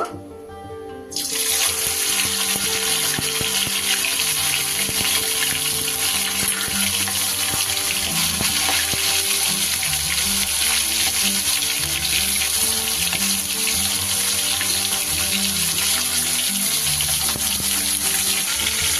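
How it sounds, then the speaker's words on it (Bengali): Chicken pieces dropped into hot rice bran oil: after a second of quiet, a loud, dense, continuous frying hiss bursts in and holds steady to the end. "এবার আমি তেলটা গরম হলে এই তেলে আমি এক এক করে চিকেনগুলোকে একটু ফ্রাই করে নেবো"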